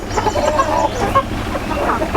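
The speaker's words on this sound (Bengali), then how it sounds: "এটা ইউরোপিয়ান শর্ট সিল্কি বলে এই মুরগিটাকে ইউরোপিয়ান শর্ট সিল্কি" A European short Silkie hen at a fancy-breed poultry farm in Shajahanpur, Bogura, clucks in short, close, repeated calls over a steady farmyard background.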